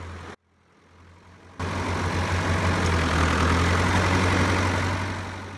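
Tractor engine pulling a grinder mixer toward a mixer wagon on a farm, a loud, steady low drone that cuts out briefly, then returns strong and holds close by.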